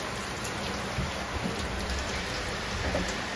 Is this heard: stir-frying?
no